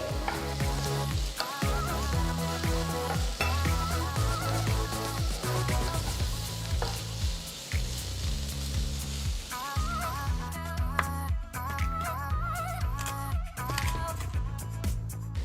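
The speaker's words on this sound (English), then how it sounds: "Next, add a piece of red capsicum thinly sliced. Saute it nicely." Thinly sliced green and red capsicum sautéing in a pan, a continuous loud sizzle with stirring scrapes throughout.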